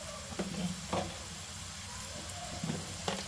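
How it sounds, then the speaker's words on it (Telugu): Eggs fry in a pan for an egg masala curry, a faint continuous sizzle with a few soft clinks and scrapes of stirring in a quiet kitchen. "ఎగ్ ఫ్రై చేస్తున్నాం"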